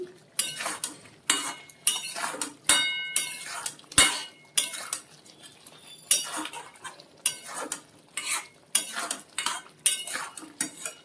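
Potol aloo curry of pointed gourd and potato being sautéed in a pan, a quick series of metal spatula scrapes and clinks in regular bursts, close and fairly loud, with a faint sizzle beneath.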